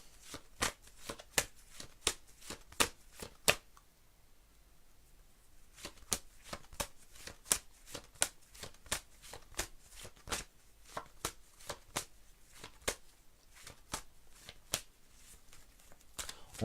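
Tarot cards shuffled by hand, a fast run of crisp riffling flicks at close range, pausing briefly, then resuming in a long steady series of soft snapping taps.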